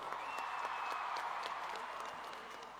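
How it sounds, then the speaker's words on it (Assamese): Audience applause for Bihu dancers at a large Bihu performance, a steady wash of clapping at moderate distance that holds for a few seconds and then begins to fade slightly. "সকলো দৰ্শকসকল আমাৰ বিহুৱা বিহুৱতীসকলৰ কাৰণে এটা ডাঙৰ হাত চাপৰি"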